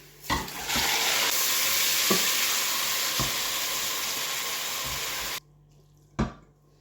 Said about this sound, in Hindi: कीमे को थोड़ा सा फ्राई करेंगे, इसका कलर चेंज हो जाए तब तक